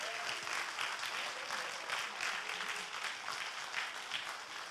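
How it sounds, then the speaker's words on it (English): An audience at a public symposium on spirituality and faith applauds steadily throughout, a soft, even wash of clapping that sounds somewhat distant. "Please give him a big round of applause again."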